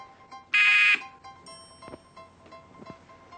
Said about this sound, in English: I'll start at the sound of the buzzer.